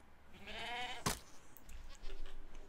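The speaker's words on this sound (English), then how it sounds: "Goat here has rammed the stone blocks and has dropped his goat horn." A Minecraft goat bleats with a wavering cry, then rams stone blocks with one sharp, loud impact, followed by faint game ambience and a lower bleat.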